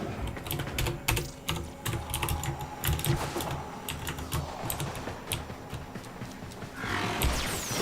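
Rapid keystrokes on a computer keyboard during a Warframe Railjack session, a steady near clatter of irregular clicks with game sounds running underneath.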